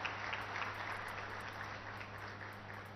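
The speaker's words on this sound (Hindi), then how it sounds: "तालियों की गड़गड़ाहट से इनका उत्साहवर्धन हो" An audience applauds at a Medicine From Sky program event with a Union Minister, a dense, even wash of clapping sustained for a few seconds over a low electrical hum, with no one speaking.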